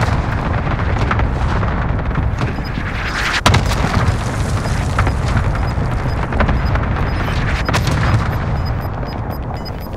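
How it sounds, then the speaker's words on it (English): Cluster strike explosions in Call of Duty Modern Warfare rumble as a dense, continuous barrage of loud booms and thuds, near and overlapping for the full stretch, with no talk. "Cluster strike away."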